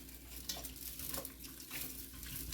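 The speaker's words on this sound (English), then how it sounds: "Mixing on the Dutch oven." Macaroni and cheese with butter is stirred in a Dutch oven, a faint steady sizzle running beneath repeated soft scraping strokes of the spoon.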